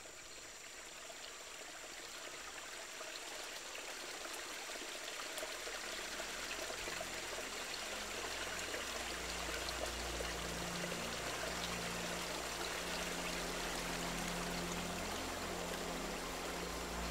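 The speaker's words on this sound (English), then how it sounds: "The Las Piedras River is bursting its banks." The flooded Las Piedras River rushes through Amazon forest in a steady, dense roar of water that holds constant throughout, broad and enveloping with a low rumbling undertone and no voices.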